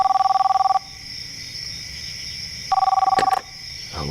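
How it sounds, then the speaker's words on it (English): A telephone rings twice, each ring a loud, rapidly trilling burst, separated by a quiet pause, with no one talking. "John receives a phone call."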